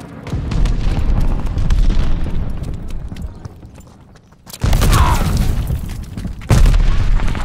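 Bombing run in Call of Duty: Vanguard, with a dense roar of rumbling explosions that dips briefly, then two loud blasts crash in near and heavy.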